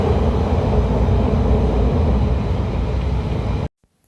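A London Underground Piccadilly Line train runs with a loud, steady, heavy rumble that fills the space, then cuts off abruptly near the end.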